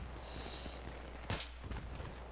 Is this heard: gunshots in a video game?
yes